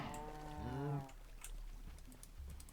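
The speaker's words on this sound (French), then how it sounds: "Elle pleure les vaches" Cows mooing in Minecraft: one long, drawn-out moo that rises then drops, followed by quieter low farm-animal grunts and faint background clatter.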